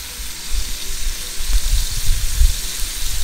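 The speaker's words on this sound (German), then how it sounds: "Da kommt dann direkt die Currypaste mit rein. Die lassen wir schön mit anrösten." Curry paste roasts on the hot floor of a Dutch oven on a Napoleon Rouge 525 SE grill, a loud, close crackling sizzle with low rumbling bursts throughout.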